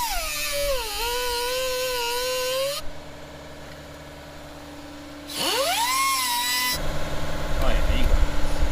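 A power tool grinds through a bolt during a 5.3 LS engine swap into a Mustang, a loud high whine in two bursts that bends in pitch as the cutter bites, with a quieter pause between and clattering workshop noise at the end.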